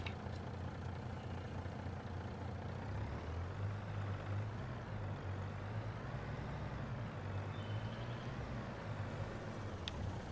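A truck in Farming Simulator 22 hauls wood along a Silverrun Forest track, giving off a steady, low diesel rumble that hums continuously with only slight shifts in pitch and no speech over it.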